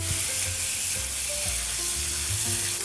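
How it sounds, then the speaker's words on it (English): Breakfast sausage sautéing in a skillet for cornbread gives a steady, close sizzle with light stirring scrapes, and nobody talks. "We are sauteing breakfast sausage."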